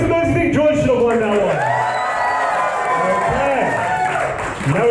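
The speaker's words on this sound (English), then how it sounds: "make some noise if you think George should have won that" An audience at a live Australian roast battle comedy event cheers, whoops and claps for a contestant, a loud sustained roar of many voices throughout.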